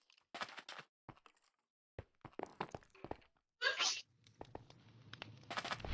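A single sharp sneeze bursts out near the middle, set among scattered keyboard clicks and thumps from someone playing a modded Minecraft session at a computer.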